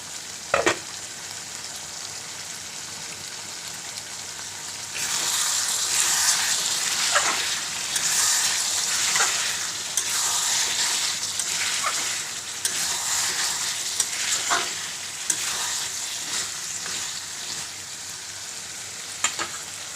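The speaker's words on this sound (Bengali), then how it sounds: "এক সাইডে উচ্ছে আলু ভাজা বসিয়ে দিয়েছি, মানে দুই দিকে বসিয়ে দিয়েছি যাতে তাড়াতাড়ি রান্না হয়ে যায়" Bitter gourd and potato slices fry in oil in a pan, giving a steady close sizzle that grows louder partway through, with occasional scraping and stirring knocks.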